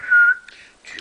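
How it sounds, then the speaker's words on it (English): A clear, sustained whistled tone, fairly loud and close, followed by a few softer, brief whistled notes trailing off. "Just whistle."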